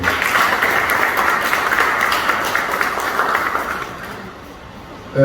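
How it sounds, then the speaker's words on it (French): A gala thank-you dinner audience applauds in a dense, loud burst of clapping that holds steady, then fades out toward the end, leaving a short quiet tail. "Applaudissez-vous s'il vous plaît"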